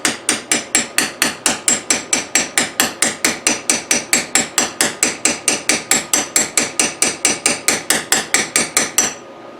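A hammer taps a 29 mm piece onto a 1974 Suzuki TC 185 dirt bike in a steady run of about forty sharp, evenly spaced metallic strikes, loud and close, with no talk, stopping abruptly near the end.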